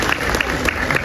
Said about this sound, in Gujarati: પ્રોત્સાહિત કરીએ એને તાળીઓથી